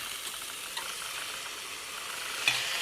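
Mint leaves fry in a pan for a green chicken gravy, making a steady close hiss and sizzle with a brief stirring clatter near the end.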